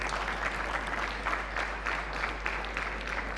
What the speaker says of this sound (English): So, can we all give a round of applause to Julian?